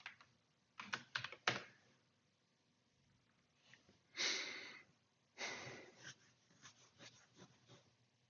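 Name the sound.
typing on a computer keyboard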